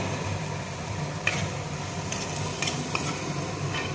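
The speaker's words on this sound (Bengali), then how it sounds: "তারপরে লাল লঙ্কার গুঁড়ো দিয়ে আমি একটুখানি এটা কষিয়ে নেব" Kashmiri and red chili powder sautéed in a pan over low heat for a mushroom curry: a steady, close hiss of frying with a few light spatula scrapes, no voices.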